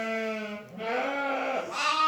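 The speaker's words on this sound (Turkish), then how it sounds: "Şimdi kuzuların içindeyim." Lambs bleat close by in a few drawn-out, wavering cries, one after another, with no voices.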